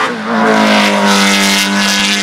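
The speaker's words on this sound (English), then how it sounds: "Lancia being treated with understandable caution as it leaves the line" A Lancia 037 rally car leaves the start line at a rally demo, its engine a loud, sustained, rising roar close by, with no talking over it.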